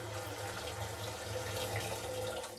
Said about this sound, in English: So I'm just pouring water in now.